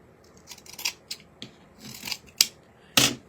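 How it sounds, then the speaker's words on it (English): Scissors snip through fur fabric for a baby hat, cutting from behind the pile in short separate cuts, about six or seven crisp close snips spread unevenly, the last one loudest, with no talking. "You want to go behind and just cut little snips like this."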